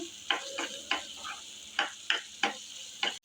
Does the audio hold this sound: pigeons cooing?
no